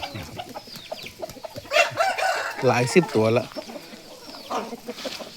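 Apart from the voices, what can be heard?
young roosters and hens clucking in a flock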